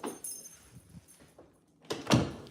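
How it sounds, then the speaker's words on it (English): A bathroom door swings shut, ending in a single soft thud after faint shuffling and a rattle, quiet and close with no talk. "Gotta close the bathroom door."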